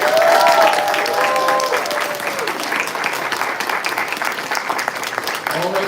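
A crowd claps steadily in sustained applause at a Transformers convention panel, dense and loud, with a voice briefly sounding over it at the start.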